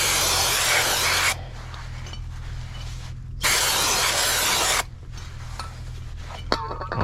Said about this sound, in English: you're going to take your brake parts cleaner and a rag